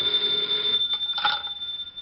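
Old-time radio drama telephone ringing: a steady electric bell tone rings loudly and continuously, with a brief click partway through, alone without voices.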